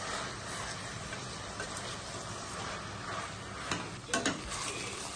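Onions with ginger-garlic paste cooking on a low flame for egg fried rice, giving a steady soft sizzle with light stirring scrapes and a few clicks of a utensil near the end.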